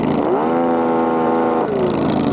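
A homemade lawn mower engine tows a mower deck through four-foot-tall grass, droning loud and close with a steady buzzing tone that rises, holds, then dips briefly as the load shifts.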